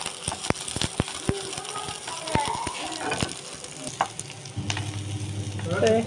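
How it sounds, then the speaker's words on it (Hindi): Onions fry in a pan for a Goan-style omelette, giving a loud, steady sizzle broken by scraping stirs and occasional clinks of the utensil. "कांदो मातशें हांव गोल्डन ब्रावन करतलें आनी मागीर हांव घालतलें."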